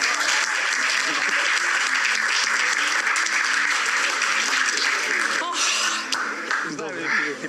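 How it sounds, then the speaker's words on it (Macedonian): A studio audience at a game show applauds steadily and loudly for the whole stretch, the dense clapping tapering slightly near the end, with a few faint voices mixed in. "еден аплауз"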